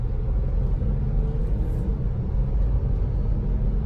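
An Acura SLX SUV driving home after maintenance, a loud steady low engine and road rumble from inside the cabin, continuous with no talk.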